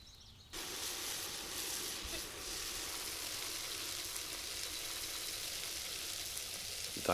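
Hungarian tripe stew with spicy paprika paste cooks in a pot outdoors, giving a steady, soft hiss and gentle bubbling sizzle that begins abruptly and continues evenly without talking.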